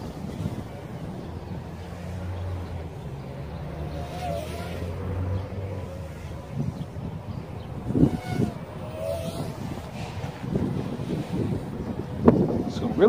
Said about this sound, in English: I feel like the wind is trying to blow me away.